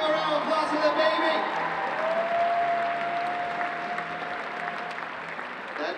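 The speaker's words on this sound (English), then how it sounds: "Let's give a round of applause for the baby." A crowd applauds a baby at the Planet Comicon 2018 cosplay competition: sustained, dense clapping that holds steady for several seconds, with a steady tone running underneath.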